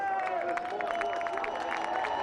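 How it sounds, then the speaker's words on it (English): Race fans at a Champ Car (Indycar) event cheer and whoop from the grandstands after a crash, a steady crowd roar across the whole stretch with a commentator talking over it. "You can hear the fans cheering"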